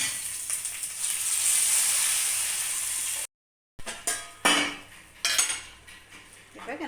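A liquid onion mixture for a village-style sardine curry pours into a hot pot with a steady hissing sizzle. After a short gap come metal clanks and utensil scrapes against the pan, close by.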